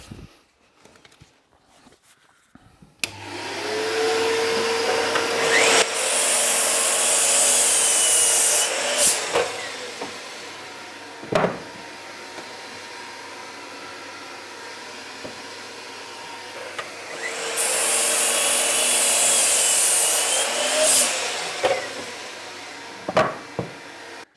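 A handsaw cuts wood for a raised planter box in two long sawing passes, loud rasping strokes that start, pause briefly with a few knocks and clatters, then resume up close.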